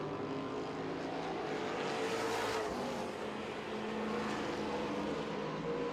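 Street stock race cars roar around the Owosso Speedway oval on the final lap, a dense, steady engine drone that swells slightly as the pack passes and never lets up across the whole stretch.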